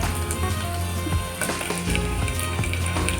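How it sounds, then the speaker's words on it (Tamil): Onions fry loudly in a pan while cooking for a festival-day sambar, with a dense, continuous sizzle and crackle broken by repeated stirring clatters. Nobody speaks. "வெங்காயம் வதங்கிட்டு இருக்கு"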